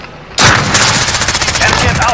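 Rapid automatic gunfire from a Call of Duty Modern Warfare Domination match bursts in loud and close, a sustained stream of repeated shots with a brief lull near the end.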